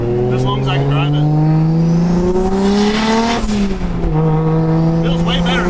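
A tuned street car with its boost controller reconnected pulls hard under acceleration, the engine note climbing loud and close through the rev range, easing briefly, then building again, with a voice in the cabin.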